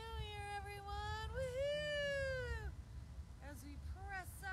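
A person's voice imitates a cat's meow during a beach yoga session, with two long drawn-out meows followed by several shorter, quicker ones, close and fairly loud over a low background rumble.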